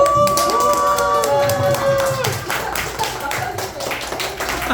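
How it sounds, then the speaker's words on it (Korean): Clapping from a small audience at a radio broadcast event, a burst of hand claps with a musical tone ringing underneath, tapering off gradually toward the end. "응원의 박수 한번"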